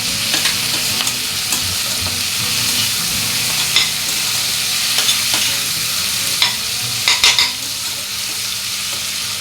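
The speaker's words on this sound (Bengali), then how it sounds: "টমেটোটা দিয়ে মশলাটা ততক্ষণই ভাজবো যতক্ষণ না টমেটোরও গন্ধটা চলে যাচ্ছে" Spice masala fries with a medium tomato in a pan for a sour mourola fish dish, a loud, steady sizzle punctuated by occasional clinks and scrapes of a spoon stirring against the metal.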